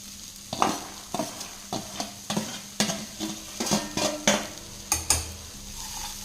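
Green gram stirred into a pan for sundal, a Tamil vegetable snack: a steady run of scraping spoon strokes against the pan, about ten in quick rhythm, close and clear over a soft sizzle, with no talking.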